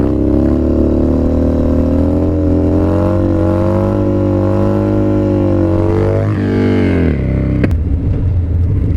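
Loud, close Harley-Davidson Dyna motorcycle engine held at high revs through a wheelie, a steady throaty roar that rises in pitch near the end, then drops sharply to a lower idle with a brief sharp click.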